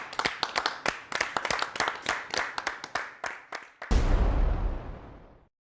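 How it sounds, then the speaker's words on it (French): A studio audience at an African culture talk show claps in a burst of sharp, separate hand claps, then a denser, louder swell of applause that fades out. "Elle s'appelle Cindy, sous vos applaudissements."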